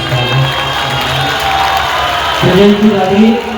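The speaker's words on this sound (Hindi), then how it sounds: "एक बार जोरदार तालियां बजाकर" Loud crowd applause at a large religious stage gathering with Pradeep Mishra, dense clapping and cheering throughout, swelling near the end under a voice.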